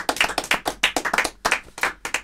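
An audience claps at a free tango concert, with uneven, irregular bursts of handclaps that rise and fall in volume and sound fairly close throughout.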